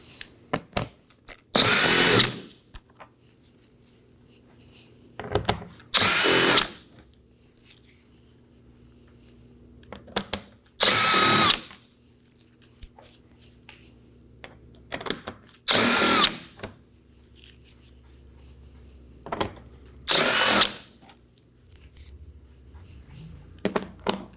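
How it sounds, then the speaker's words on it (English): A power drill backs out 7mm bolts from beneath the front bumper of a 2018-2024 Chevrolet Equinox in about six separate short whirring bursts, loud and close, with quiet pauses between them. "locate 6 more 7mm bolts. We're going to go ahead and remove those now."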